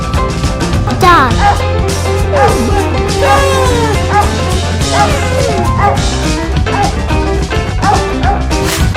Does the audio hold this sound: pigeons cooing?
no